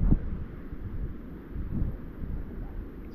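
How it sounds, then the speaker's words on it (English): Gusty wind buffets the microphone out on the water at Fig Tree Point in the Noosa Everglades, a low rumbling roar that swells and eases in uneven gusts with nothing else standing out. "bloody wind."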